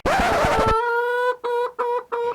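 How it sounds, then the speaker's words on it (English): Feral chickens give loud, close clucks and calls, with a noisy burst first and then several short, repeated calls. "I've got 2 chickens, they might chase you. They're feral."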